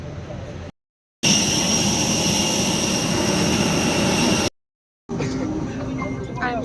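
A steady, loud roar of jet engines and cabin noise fills an airplane after boarding, broken by two short gaps of silence.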